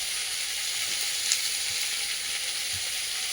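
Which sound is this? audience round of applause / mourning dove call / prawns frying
prawns frying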